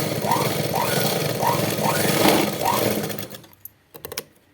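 A sewing machine stitching a blouse runs in a steady, rhythmic whir with repeating needle pulses for about three seconds, then stops, leaving a few faint clicks and handling noises.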